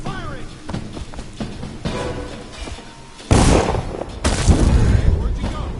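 Gunfire from a guard in Dishonored: a sharp booming shot bursts in loudly midway, followed by a second heavy blast, over a busy game soundscape with voices.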